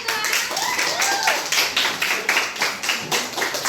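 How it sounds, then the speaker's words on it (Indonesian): Classroom students clapping hands together in a chemistry lesson, a rapid, rhythmic patter of many hands with small voices mixed in, steady and fairly close. "Oke, tepuk tangan dulu."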